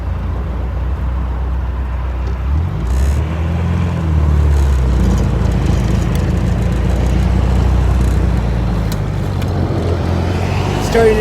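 A car pulls away in the wrong gear, its engine labouring with a low, strained drone that shifts pitch as it moves off, loud and close with road noise around it.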